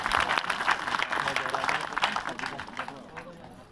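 Wedding guests clap together in a steady, fairly close patter that fades somewhat toward the end, with voices murmuring beneath the applause.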